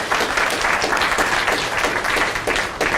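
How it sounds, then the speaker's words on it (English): A seated audience claps for themselves at the close of an education event, a brief, full burst of many hands applauding at once, steady and fairly close with no speech over it. "So I would like you to applaud yourselves for everything"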